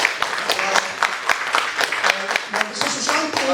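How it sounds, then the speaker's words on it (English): Audience clapping at a launch ceremony, a burst of applause from a crowd, loud and fairly close. "May I just ask all of you to just clap your hands to invite him."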